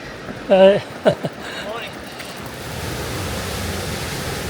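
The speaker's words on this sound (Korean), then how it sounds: "길 옆에서 우렁찬 물소리가 들려 잠시 들여다보았습니다" A roaring stream rushes beside a trail near Mount Robson in the Canadian Rockies, a steady, broad wash of water noise that builds and holds after a few brief voice-like sounds at the start.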